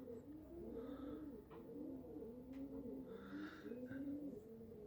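A young homing pigeon, back from a flight, gives soft, repeated cooing close by, with faint chirps from other birds in the background of a quiet outdoor loft.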